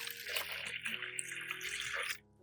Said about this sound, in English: Add clean water.